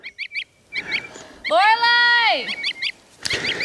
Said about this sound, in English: What a freaking annoying little goose.